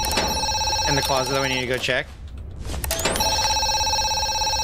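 A telephone rings in the horror game Zoochosis, a steady electronic ring running through nearly the whole stretch, dropping out briefly near the middle while a person speaks over it.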